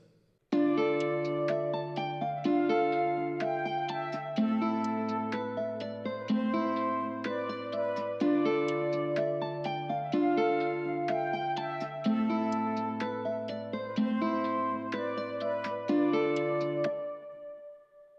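A looping melodic flute beat with layered chords and crisp percussion hits, steady and full, playing alone before fading out at the end.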